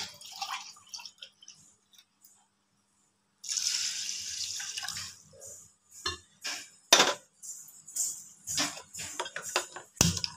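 Water poured and drained off soaked rice in a kitchen sink for curd rice: a gushing pour midway, then scattered splashes, drips and clinks of a metal vessel.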